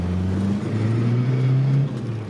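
VW Golf 2 TDI diesel accelerating, heard from inside the car: a steady loud engine drone whose pitch climbs smoothly, then dips as the gear changes.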